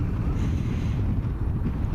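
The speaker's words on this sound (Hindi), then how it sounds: "क्रेजी हवा चलते हुए भाई।" Strong wind roars over the microphone while riding along the Mahendra Highway in Nepal, a steady loud low rumble and buffeting that fills the whole stretch without a break.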